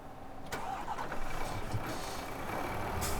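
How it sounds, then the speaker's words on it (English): A lorry engine cranks and catches in the video game Farming Simulator 2015, then settles into a steady mid-pitched idle that runs on to the end. "We get the lorry going."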